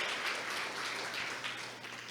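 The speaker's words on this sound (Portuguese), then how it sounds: "Vamos aplaudir ao Senhor" A church congregation applauds during a Portuguese-language worship service, a dense, steady patter of many hands clapping at moderate, even volume for a couple of seconds with no voices over it.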